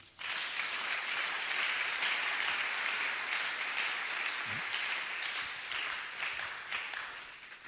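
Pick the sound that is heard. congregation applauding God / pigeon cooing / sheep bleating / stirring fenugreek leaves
congregation applauding God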